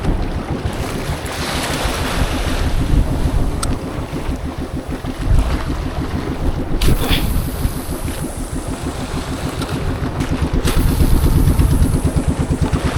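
A boat motor chugs steadily with a rapid pulsing beat in a strong current beside a volcano, under heavy wind buffeting the microphone and water splashing.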